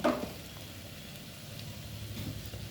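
Onions frying in a pan for a Kerala-style fish curry, a steady soft sizzle with a brief clatter at the start, then continuous low crackling hiss with occasional faint pops.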